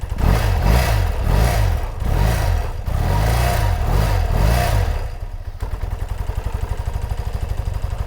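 A 1982 BMW R100RS motorcycle engine idles slightly high close by, not fully warmed up, first with a loping, uneven throb that swells and dips, then settling into a steady, rapid low putter.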